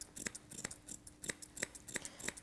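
Grooming scissors snip a Labradoodle's chin hair in a quiet, close series of about eight crisp, evenly spaced cuts, alone without talking.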